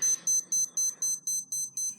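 A Timex 1,000-second timer beeping: eight evenly spaced, loud, high electronic chirps at a steady quick rhythm, about four per second, with nothing else but faint background hiss.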